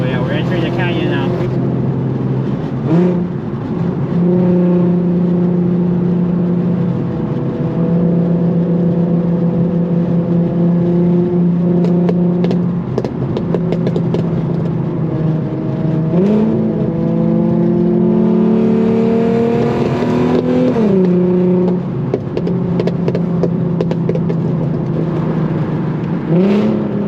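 An Infiniti Q50 with a Tomei exhaust drones and revs loudly in a canyon, pitch rising and falling as it accelerates repeatedly, with a voice briefly heard over it.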